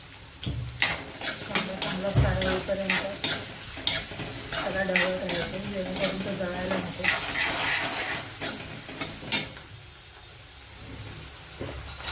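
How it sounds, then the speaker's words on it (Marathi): Finely chopped onion drops into hot oil in a home kitchen pan and sizzles loudly, with scraping stirs and clinks of a utensil over a steady frying hiss that eases toward the end. "आता यात आपण तेल तापलेलं आहे आपण थोडा बारीक चिरलेला कांदा टाकणार आहोत"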